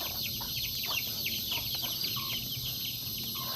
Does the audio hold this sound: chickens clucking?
yes